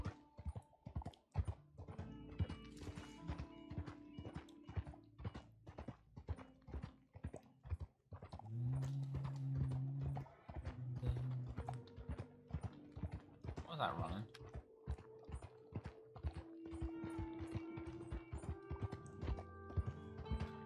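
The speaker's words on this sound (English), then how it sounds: "Wild horses! Run, horses, run!" Rapid hoofbeats of wild horses clatter along in a continuous galloping rhythm in Red Dead Redemption 2 (RedM), layered with game music tones and intermittent voices talking.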